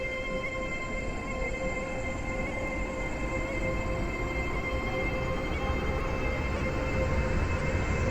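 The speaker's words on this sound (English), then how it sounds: "When leaving the station, always set the train at full throttle." Video game train in Stepford County Railway pulling away from a station at full throttle, a steady loud rumbling drone with sustained motor whine tones, continuous and close.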